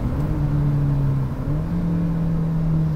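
A Lotus Elise engine revs hard toward about 7,000 RPM on the Goodwood circuit, a close, loud, steady mid-pitched drone with a brief dip before climbing again, heard alone.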